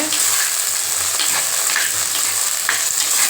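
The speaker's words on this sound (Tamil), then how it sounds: "இப்போ இது நல்லா வதங்கட்டோங்க வெண்டைக்காவும் சின்ன வெங்காயம் நல்லா வதங்கிடுச்சுங்க" Okra and small shallots sautéing in a pan give a steady, close sizzle with occasional stirring scrapes, continuous and fairly loud throughout, with no talking.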